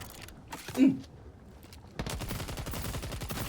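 Rapid automatic gunfire in the extraction shooter video game Exoborne, a dense rattling burst that starts abruptly midway and runs loud to the end, after quieter game ambience and a brief low thump.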